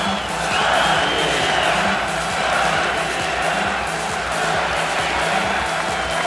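A mixed martial arts crowd cheers after a fight win, a loud, dense, sustained roar of many voices lasting the whole six seconds without letup.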